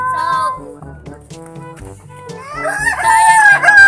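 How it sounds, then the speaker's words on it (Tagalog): Chickens and a rooster on a farm, with a loud crow rising near the end over softer clucking and a person talking. "ayan, may mga manok dito."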